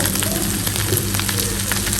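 Food sizzles and fries steadily in hot oil during home cooking, a continuous crackling hiss that stays close and even throughout with no talking.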